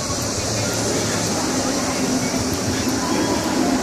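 A mine train roller coaster at Kings Island produces a loud, constant rumbling roar of wheels on track, with a steady hiss of wind and riding noise throughout.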